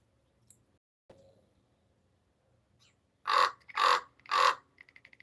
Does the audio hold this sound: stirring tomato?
no